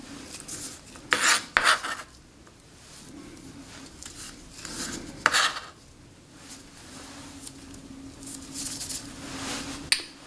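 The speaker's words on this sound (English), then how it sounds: "that does it for our vegetable chopping" A knife chops vegetables, including jalapenos, rhythmically on a cutting board in short bursts, close and fairly quiet, with pauses between runs of strokes.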